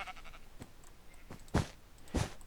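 Sheep in Minecraft bleat several times in short, separate calls, two of them louder and closer, over a quiet background.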